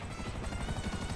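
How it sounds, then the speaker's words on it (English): Helicopter in GTA 5, a steady, dense rotor chop with a low rhythmic thumping, moderately loud and continuous for a brief moment, no talk over it. "Where's the helicopter?"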